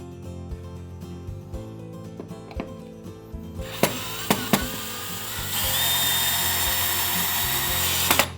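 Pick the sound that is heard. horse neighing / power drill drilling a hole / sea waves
power drill drilling a hole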